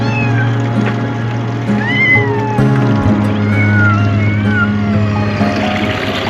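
Cats meowing on a short dinghy ride to the vet, several drawn-out, rising and falling meows over a steady outboard motor drone and splashing water.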